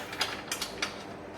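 A ratchet wrench tightens the skid plate bolts on a Subaru Outback Wilderness, giving a few short, close mechanical clicks spread across a brief moment.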